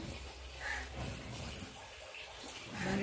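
Water draining and splashing off soaked ration rice being strained by hand at home, a steady close wash of trickling water with a louder pour near the end.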